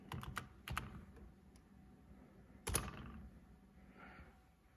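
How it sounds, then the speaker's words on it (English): A computer keyboard typing a short command on a RetroPie setup: a quick burst of close key clacks, a pause, then a single firmer keystroke, quiet otherwise with no talk. "we're just going to type cd/boot"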